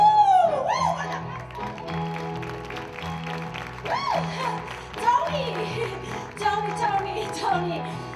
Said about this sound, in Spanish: Un fuerte aplauso para Tommy Chu.